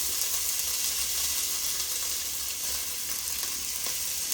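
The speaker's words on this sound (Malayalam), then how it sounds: "ഇനി ഇതിലേക്ക് നമുക്ക് ഈ കുതിർത്ത് വെച്ച അരിച്ചു വെച്ച അരി ഇടാം." Soaked, drained rice tipped into a hot pan while making tomato rice, giving a steady, close sizzle and hiss that holds at an even level throughout, with no talking.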